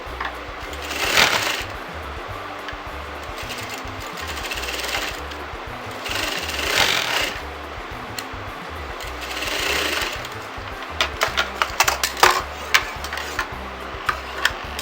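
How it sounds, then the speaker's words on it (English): A sewing machine stitches fabric for a pin tuck top, running in three loud whirring bursts with rapid needle clatter, then a series of short, sharp mechanical taps near the end, with no talking. "Don't stretch the fabric, just like that you're going to sew that."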